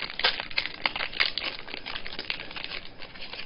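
Foil wrapper of a 1994 Sportflics baseball trading card pack being torn open and handled, a steady run of close, crisp crinkling and rustling with brief sharper tears, no talking.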